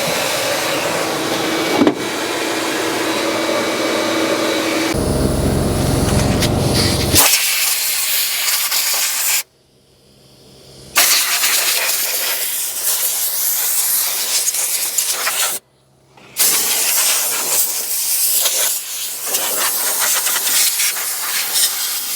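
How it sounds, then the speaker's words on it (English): Loud, steady blast of compressed air spraying out the interior of a 1966 Ford Fairlane 500, a continuous broadband hiss broken by two brief pauses where the airflow stops, then resumes at full force. "done spraying it off with our air"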